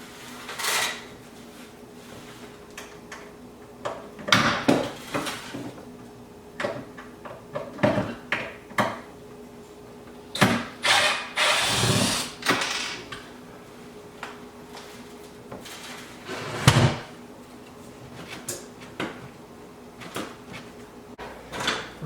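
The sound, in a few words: removing kitchen cupboard screw, cabinet being moved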